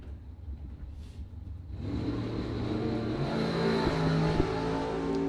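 Rear-engine dragsters launch at a drag strip, a sudden engine roar rising from near quiet into a loud, sustained revving blast as the cars pull away.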